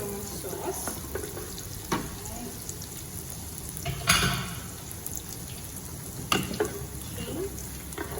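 Dried shrimp frying in a wok as the base for Kam Heong sauce, giving a steady low sizzle with a few louder stirring scrapes and clatters, close by and with no talking.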